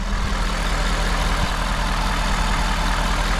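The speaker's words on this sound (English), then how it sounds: "But this is the engine." A diesel tow truck engine idles close up, a steady low rumbling drone that holds evenly throughout with no talk over it.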